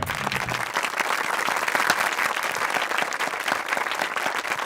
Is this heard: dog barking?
no